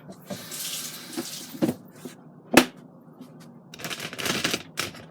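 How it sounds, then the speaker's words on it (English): Tap water runs into a sink while hands are washed, splashing in uneven bursts that swell and fade close by, with no talk. "Okay, let me wash my hand."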